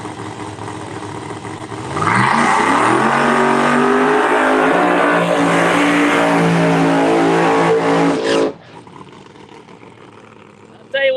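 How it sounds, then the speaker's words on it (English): Pro Mod drag race car Hells Bells at Empire Dragway roars off the line, its engine climbing steeply through the gears for about six seconds at full volume before cutting off abruptly, leaving faint background noise and a brief burst at the end. "Johnny Camp's other car, Hells Bells, probably one of the best working race cars in all of Pro Mod drag racing"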